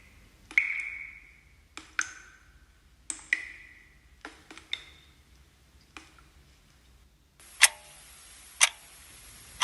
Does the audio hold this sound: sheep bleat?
no